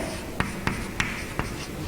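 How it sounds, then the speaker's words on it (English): Someone writes on a board, a sharp tap heard four times at fairly even intervals over a steady room background. "So I will write here snooker."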